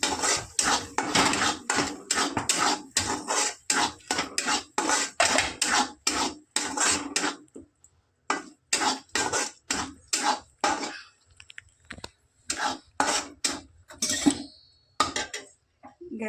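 A spoon scraping and clanking against a metal pan while onion masala, salt, garam masala and coriander powder are mixed for egg fried rice, rapid rhythmic knocks in bursts with short pauses, close and crisp.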